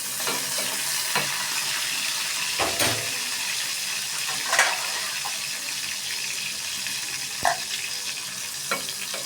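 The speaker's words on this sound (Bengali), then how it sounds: "আমার তেল গরম হয়ে গেছে অলমোস্ট। এখন আমি আগে থেকে কেটে রাখা একটা বড় সাইজের পেঁয়াজ কুচি দিয়ে দিলাম।" Chopped large onion frying in hot oil, a steady broadband sizzle throughout with occasional clinks and scrapes of stirring, close and moderately loud with no talking.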